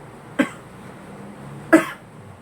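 Two short, sharp coughs from one person nearby, spaced more than a second apart against a quiet background.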